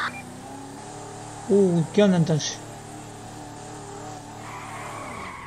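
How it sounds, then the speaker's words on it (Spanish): Car engines in the video game GTA hum as a steady, moderate background drone, with a short burst of talk over it in the middle. "Escuché todos los autos encima."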